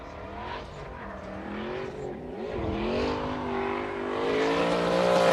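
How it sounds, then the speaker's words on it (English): Nissan S13 Silvia drift car revving hard at Fuji Speedway, engine pitch rising and falling through shifts and climbing steadily louder in a continuous, unbroken run with no voices. "car number 144, Daniel Mesmer with Cheeseburger Racing in his S13 Silvia"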